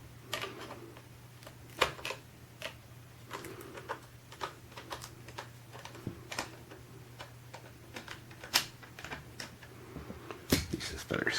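A screwdriver loosens the large stock screw under a Mossberg 342KA bolt-action rifle, giving a series of sharp, irregular ticks and clicks over a steady low hum, quiet and close.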